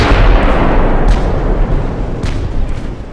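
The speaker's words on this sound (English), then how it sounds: "And a torpedo hit" A heavy, rumbling torpedo-hit explosion in the naval warship game Ultimate Admiral: Dreadnoughts, loud and booming with a sustained low roar that gradually fades, with a couple of fainter bursts after it.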